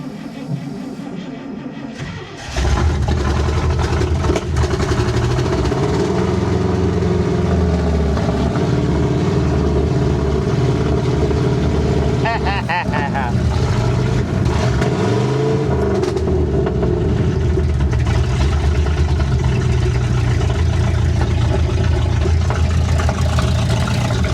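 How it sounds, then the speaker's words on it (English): A loud motorcycle engine, a Scout fitted with a Harley carburetor, starts up and runs steadily for about twenty seconds, rumbling close by with a few uneven swells like light revving. "Well, guys, we know the engine runs."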